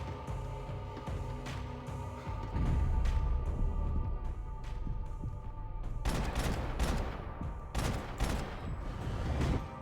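Dense, sustained gunfire from a second weapon in the Max Payne 3 video game, with rapid overlapping shots and heavier bursts in the second half, loud and continuous over a rumbling game soundtrack.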